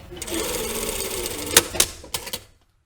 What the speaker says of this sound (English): And now I can sew down this edge here.